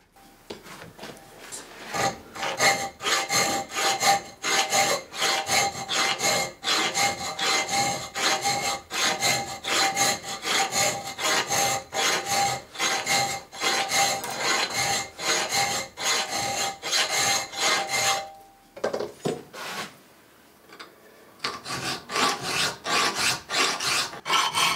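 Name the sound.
filing wood with a file while building a hand plane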